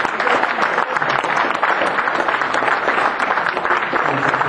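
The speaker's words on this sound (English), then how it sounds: "So one more round of applause for Victoria and for Trevor." An event audience gives a loud, continuous round of applause for two people, the crowd's clapping dense and steady while a voice speaks over it.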